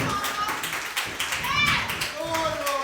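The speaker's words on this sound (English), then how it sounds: "can we have a big round of applause for Lauren?" A live crowd claps and cheers for performer Lauren at a music event, with dense, continuous applause and whoops at mid distance. Excited voices and chatter run through the clapping.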